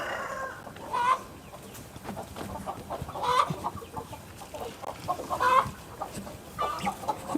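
Native village chickens cluck in a farm shed, with repeated close calls rising and falling over a soft background of scratching and shuffling.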